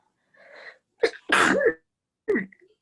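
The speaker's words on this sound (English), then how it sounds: "That's what you say when someone sneezes." A single sharp sneeze, close and fairly loud, preceded by a short inhaling buildup and followed by a softer trailing sound in a quiet room.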